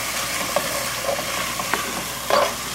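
Chopped onion is stirred in a hot frying pan, giving a steady loud sizzle with a few scraping strokes of the utensil and no voices.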